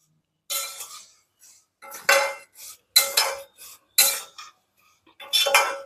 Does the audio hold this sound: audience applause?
no